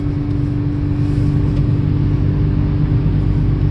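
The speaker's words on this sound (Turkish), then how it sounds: "Araç şu an 3. viteste. Vites atmıyor." A Kia Picanto 1.0 automatic with a 67 hp engine cruising at highway speed in third gear, giving a steady, loud cabin drone of engine and road noise with constant low humming tones and no talk.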